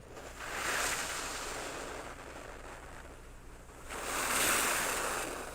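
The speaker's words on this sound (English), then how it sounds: "Waves in the background." Synthesized ocean waves in an FL Studio electronic track, two slow swells of surf washing in and receding, soft and airy, with no other sound over them.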